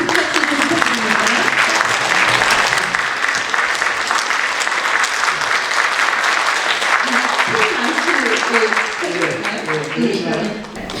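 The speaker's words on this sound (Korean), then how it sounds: "여러분 큰 박수 부탁드립니다" An audience at a book concert in an arts centre hall claps to welcome an author onto the stage, filling the room with dense, sustained applause that lasts about ten seconds before beginning to fade.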